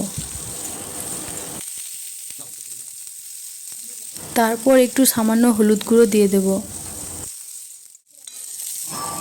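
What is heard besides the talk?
pointed gourd (potol) frying in oil in a wok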